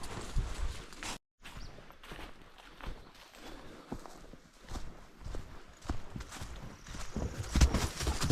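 Quick, uneven dog footsteps patter close by with a hoof-like clip-clop quality, amid outdoor background noise near remote trout lakes and a short dropout.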